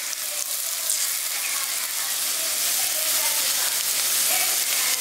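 Ginger and cumin paste with ground spices and salt sizzles and fries steadily in a pan for a village-style papaya and moong dal dish, a loud continuous hiss with faint stirring.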